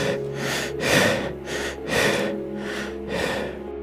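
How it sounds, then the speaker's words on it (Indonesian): Heavy, slow breathing as a horror story effect, drawn-out breaths repeating in a steady rhythm of about five pulses, sounding distant and eerie over a low droning background. "Kayak seseorang menarik napas berat dari kejauhan."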